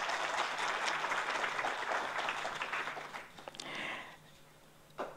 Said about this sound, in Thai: ขอเสียงปรบมือให้กับคุณปูอีกครั้งหนึ่งนะครับ